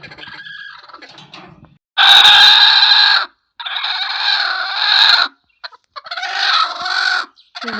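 Hens near a nest of eggs cluck and call loudly and up close, in several drawn-out bursts separated by brief pauses, with quieter clucking in between.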